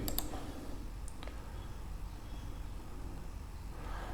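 A computer mouse gives two faint, sharp clicks about a second apart while updating a WordPress link plugin, then a quiet room hiss continues.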